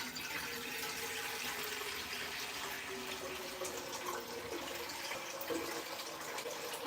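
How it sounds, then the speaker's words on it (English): Tap water runs steadily into a pot being filled for cooking pasta in a home kitchen, a constant soft rushing with no breaks and no talking. "So I'm gonna get some water."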